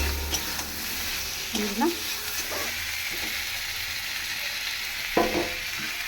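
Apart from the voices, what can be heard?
prawns and pointed gourd frying in spice paste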